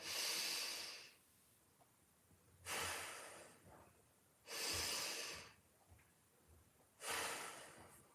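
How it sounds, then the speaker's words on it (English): Slow nasal breathing during a mobility and stretching workout, four long airy breaths through the nose, inhales and exhales alternating with quiet pauses, close and soft. "Inhale, exhale, nasal only."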